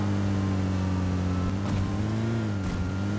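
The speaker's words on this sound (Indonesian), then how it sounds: "Oh, gua dengar suara mobil." A car engine in PUBG Mobile hums steadily at a low, tonal drone, its pitch rising and dipping slightly as it revs, loud and close with no talk over it.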